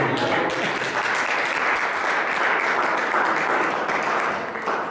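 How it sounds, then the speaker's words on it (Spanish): A church congregation applauds in a dense, steady wash of clapping from many hands that carries on without a break and fades slightly at the end, with a voice faintly underneath. "Qué débil es ese aplauso"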